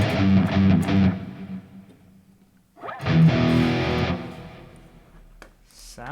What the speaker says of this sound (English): I don't need all that distortion on there.